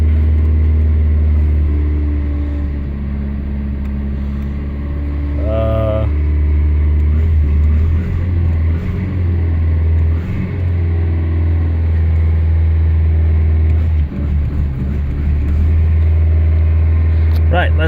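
A 1983 Volvo 240 engine idles high at around 2,500 RPM, a steady close rumble under intermittent talking.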